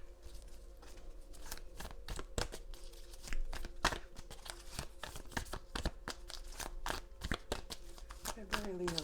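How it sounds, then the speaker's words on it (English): Tarot cards are shuffled in quick riffling bursts, close and crisp, running steadily throughout under quiet background sound. "Let's give it a good shuffle."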